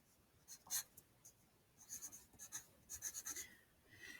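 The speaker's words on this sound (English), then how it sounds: "Pretending this is Tom writing it." Pencil writing on paper, a quiet close series of short scratching strokes in irregular bursts, with brief pauses between words.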